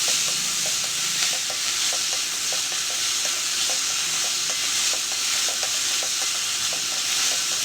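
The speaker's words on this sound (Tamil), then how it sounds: "கொத்தமல்லி தழையும் புதினா தழையும் சேர்த்துக்கிட்டு நல்லா வதக்கி எடுக்கலாம்." Coriander and mint leaves are sautéed in hot oil under a steady, close sizzle, with light rhythmic taps and scrapes from stirring throughout.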